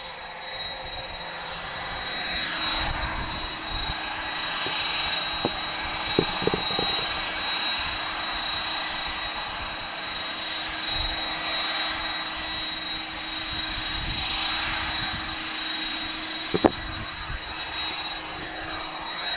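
A Boeing 767 jet at Lisbon Airport gives a steady, loud engine roar that holds for the whole stretch, with a faint high whine above it and no talking.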